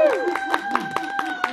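Aboard the Disney Magic cruise ship, the audience claps after a dance round between kids and adults: quick, rhythmic claps with light crowd noise beneath a voice talking over them.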